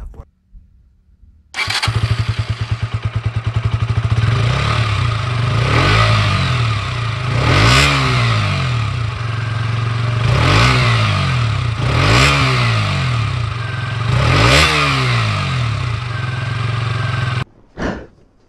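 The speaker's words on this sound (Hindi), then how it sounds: "तो अभी मैं आप सभी को इसका एग्जॉस्ट नोट एक बार सुना देता हूँ" A 2021 KTM Duke 125 motorcycle starts up loud and close, settles into a clattering idle, then gives a series of sharp throttle revs at regular intervals before the engine cuts off abruptly.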